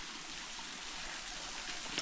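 A low, nearly dry creek runs in a faint, steady trickle and wash, with a brief small splash or tick near the end and no voices.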